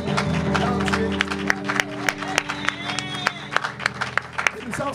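A church audience applauds and cheers, a dense wash of clapping with sharp individual claps standing out and a steady tone underneath, while a voice speaks over the crowd.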